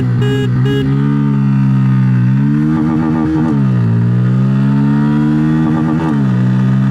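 A Bajaj Pulsar motorcycle, N160 or P150, accelerates hard through the gears in a 0 to 100 acceleration test, the engine loud and close, rising in pitch and dipping briefly at each shift.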